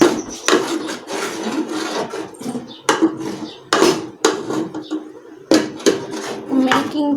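Thick haleem being stirred in a pot with ghee, repeated scraping and knocking strokes of a spoon against the vessel in an uneven rhythm.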